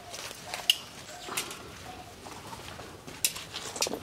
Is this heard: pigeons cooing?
yes